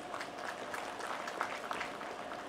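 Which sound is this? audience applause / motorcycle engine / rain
audience applause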